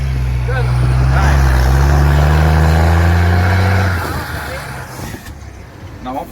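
A truck with a straight exhaust pipe, loaded with passion fruit, roars with a loud, steady low engine drone for about four seconds before easing off to quieter idle and road noise, with voices faintly in the background.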